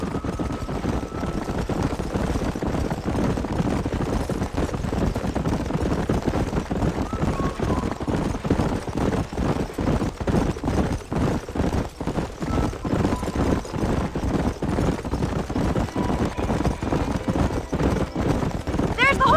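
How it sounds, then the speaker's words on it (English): Horses gallop in the Western video game Red Dead Redemption: a continuous, rapid clip-clop of hooves with occasional whinnies, close and steady throughout, with voices faintly mixed in. "There's the horses!"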